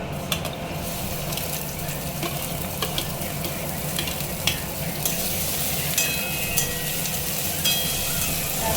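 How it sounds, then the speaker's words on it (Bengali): Chopped garlic and onion frying in hot ghee for posto puri, a steady close sizzle with occasional stirring scrapes of a utensil in the pan, no talking. "এবারে আমি এই কুচি করা রসুন পেঁয়াজটা একটু ভেজে নেব"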